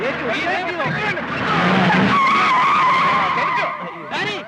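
A car's tires skid loudly under hard braking, a sustained screech running for several seconds, while excited voices shout over it in a dramatic film scene.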